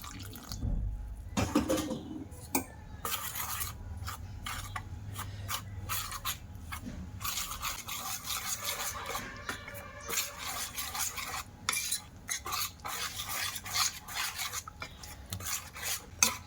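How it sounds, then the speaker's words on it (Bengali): A light flour batter is whisked and stirred in a bowl, producing steady scraping, rubbing and wet clattering strokes at close range without talking. "আটাটা চেলে নিয়ে যে আটাগুলো ছিল ওইগুলো দিয়ে আমি একটা ব্যাটার বানিয়ে নেব হালকা"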